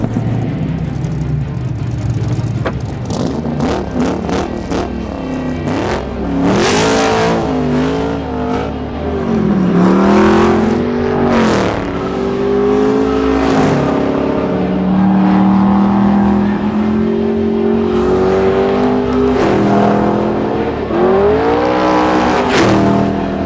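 A Lucra LC470 sports car with an LS7 engine accelerates hard, its exhaust note climbing through repeated rising revs between gear changes, loud and close with a deep throaty roar.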